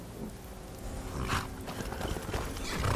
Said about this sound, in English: leave the horse here